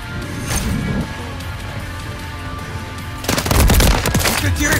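Gunfire in Call of Duty Modern Warfare 3, with distant crackling shots followed by a loud, rapid automatic burst close by near the end.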